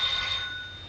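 A telephone bell rings in a 1937 comedy film scene, a steady high metallic ring sounding alone at moderate level before fading slightly.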